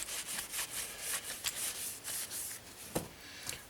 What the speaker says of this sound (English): Let's just wipe off these prints.